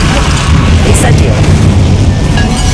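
An Incendio fire spell cast in Hogwarts Legacy during a fight gives off a loud, low booming whoosh of flame with a brief bright crackle partway through, over steady dense combat noise.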